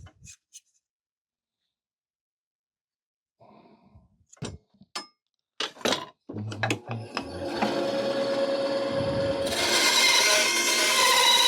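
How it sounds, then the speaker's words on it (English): A bandsaw makes a rough cut in wood while making a jeweler's ring clamp. Quiet handling knocks come first, then the saw starts and cuts as a steady whirring buzz that grows louder and continues to the end. "we're going to do a rough cut on the bandsaw"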